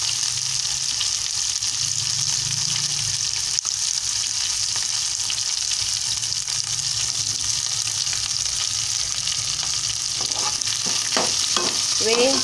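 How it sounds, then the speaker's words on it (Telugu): Onions frying in hot oil for an okra (bendakaya) curry tempering make a continuous, even sizzle close by, with faint stirring clinks near the end and no talking. "ఉల్లిపాయలు కొంచెం వేగాలి."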